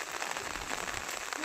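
Light rain falls on a rooftop during a gentle monsoon shower, making a steady, even hiss of drops that stays constant throughout with no voices.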